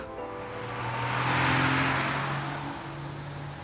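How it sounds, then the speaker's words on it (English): A company car pulls away, its engine rising in pitch as it accelerates past at moderate distance, swelling in loudness mid-way then fading slightly, with no voices over it. "Just after 8:30, Susie set off for work in her company car."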